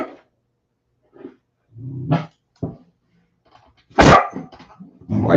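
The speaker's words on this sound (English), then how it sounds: "Why are you barking?" A dog barks in short bursts, with a few yips and a louder, closer bark near the end, separated by brief silences and no speech.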